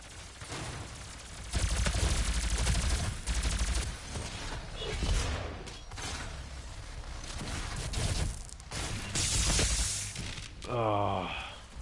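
Several players fire guns in a DOOM multiplayer match on PS4. Dense, loud, overlapping bursts of shots and blasts continue almost without a break, with a brief voice-like tone near the end.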